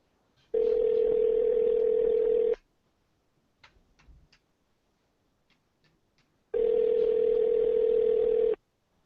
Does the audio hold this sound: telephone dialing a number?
yes